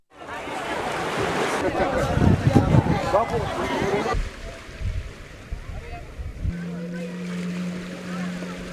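A boat carrying pilgrims across open sea toward Kachchatheevu island, with rushing wind and splashing waves, then a steady low engine drone; muffled voices murmur in the background.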